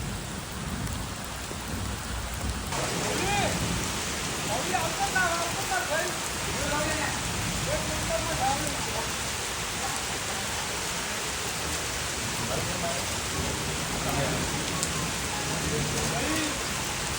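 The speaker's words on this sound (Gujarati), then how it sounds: "વરસાદ પડી રહ્યો છે" Heavy rain pouring down during the first monsoon shower, a dense continuous hiss of drops striking surfaces throughout, loud and close, with faint voices and splashing beneath it.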